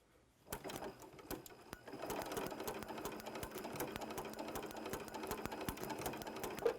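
A sewing machine fitted with a ruffler attachment starts up and stitches pleats, a fast, regular mechanical clatter of needle strokes with periodic sharper clicks, close and steady after a brief quiet start.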